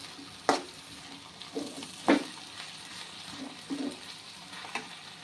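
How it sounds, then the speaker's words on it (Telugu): Soft frying of sliced okra in a kadai, with a few sharp scrapes of stirring at irregular moments over a quiet sizzle. "నెక్స్ట్ మనం కడాయి తీసేసిన మూత ఒక 2-3 minutes ఫ్రై అవనిద్దాం, జిగట పోయేంత వరకు"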